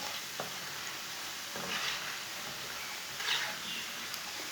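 Raw banana fries crackle and sizzle steadily in hot oil over medium heat, a continuous fizzing hiss with a few louder bursts and faint stirring clicks as they are turned.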